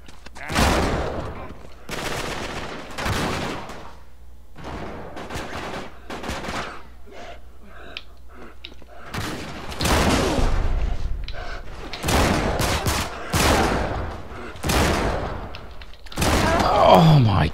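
Heavy, booming shotgun blasts in the video game Uncharted 3: Drake's Deception, fired repeatedly at irregular intervals with thuds between shots and some quieter stretches.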